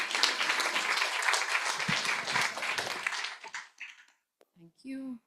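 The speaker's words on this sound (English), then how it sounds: "round of applause for our panelists" A seminar audience applauds the panelists at the close of an agri-insurance session, a full, steady burst of clapping that tapers off after a few seconds, followed by a few faint voices.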